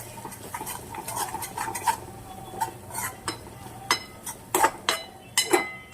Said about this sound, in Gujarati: હવે આ ચમચીથી હલાવી નાખું।